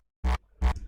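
Two punchy, crunchy kick drum hits from a layered kick in a music production mix, loud and close, each with a short gritty tail, the second hit ringing slightly longer.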